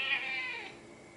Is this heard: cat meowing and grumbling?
yes